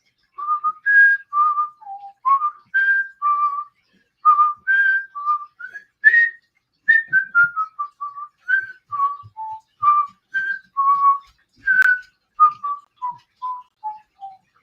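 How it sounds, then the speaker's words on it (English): A person whistles the Jeopardy theme alone, clear pitched notes in short bouncy phrases with brief pauses between them. "I can whistle the Jeopardy theme"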